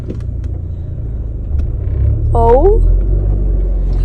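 A 2002 Mini Cooper driving for the first time in ten years, a low steady engine and road rumble heard from inside the car that swells slightly partway through, with a brief exclamation over it.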